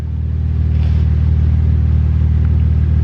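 Car exhaust with a loud, steady low rumble at close range, holding a constant idle-like drone without clear revving peaks, with no talking.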